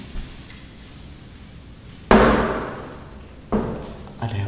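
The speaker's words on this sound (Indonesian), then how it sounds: "Tadi suara bunyi pintu ini ya" A door in an empty house gives a sudden loud thud followed by a quieter knock, heard against a faint steady hum and room hiss.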